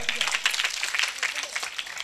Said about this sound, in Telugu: కొట్టు చప్పట్లు గట్టిగా